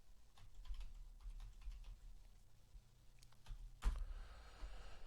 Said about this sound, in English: I'd go back to Google and I'd just type in hairdressing, Hills District.